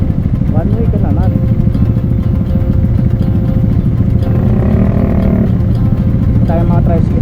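Motorcycles and tricycles idle and rev in congested morning traffic in Tanza, Cavite, a dense continuous engine rumble with horn-like tones, heard under steady talking.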